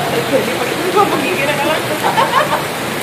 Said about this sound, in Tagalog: kusog kayo ang ulan